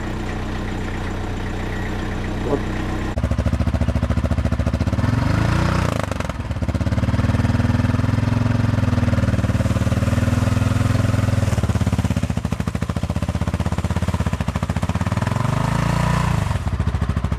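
A motorcycle in Gabon in January 2006, stuck on a slippery climb, is started after a quieter stretch and then runs with a loud, steady engine drone whose pitch rises and falls slightly.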